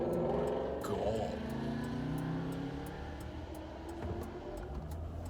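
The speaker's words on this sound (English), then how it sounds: "that car behind me had a mad straight pipe on it" Car with a straight-pipe exhaust rumbling past close behind, a loud raw engine roar that swells early and then fades into the background.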